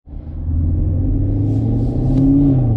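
A 2019 Chevrolet Camaro SS with a 10-speed transmission and drag pack accelerates at wide-open throttle, its engine starting with a deep rumble and rising steadily in pitch, loud and close.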